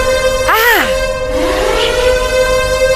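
A loud siren in the video game Animal Company wails with a sharp rising and falling sweep, then settles into a sustained, droning tone.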